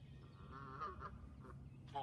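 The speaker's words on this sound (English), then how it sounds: "There's a goose." A goose in a backyard lets out a few faint, distant honks, nasal calls rising and breaking over low background rumble.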